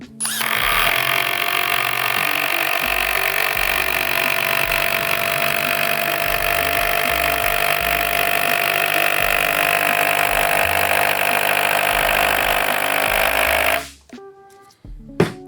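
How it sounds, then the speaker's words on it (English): A first-generation Hitachi impact driver sinks screws into a wooden beam, a loud continuous rattling whir with hammering pulses lasting about fourteen seconds before stopping abruptly, followed by a few faint clicks. "we're just gonna drive these all the way down"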